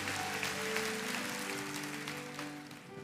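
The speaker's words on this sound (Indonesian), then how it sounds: "Kasih tepuk tangan untuk Tuhan, come on." A church congregation claps during a sermon, a broad wash of applause over sustained keyboard chords that fades slightly toward the end.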